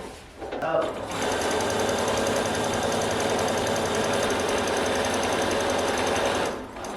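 Close by, a sewing machine stitches velvet fabric panels together in one steady, continuous run of rapid mechanical whirring, starting and stopping cleanly and heard alone without talk.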